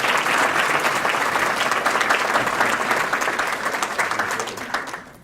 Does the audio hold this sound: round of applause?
yes